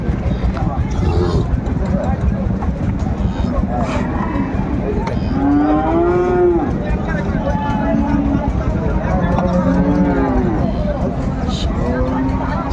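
Several Sahiwal cattle moo repeatedly at a cattle market in Chittagong, long drawn-out calls overlapping over a noisy background with people talking nearby.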